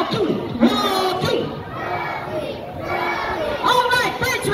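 A crowd of children at an ocean park bird show shouts and cheers in bursts, chanting a bird's name rhythmically, loud and close with overlapping voices.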